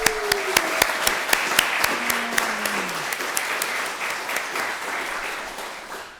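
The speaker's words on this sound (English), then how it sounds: "Please join me in another round of applause for all of our presenters." An audience at a Three Minute Thesis competition gives a steady round of applause for the presenters, with dense clapping throughout and a few sharp, distinct claps standing out. A brief whistle or voice rises above it early on.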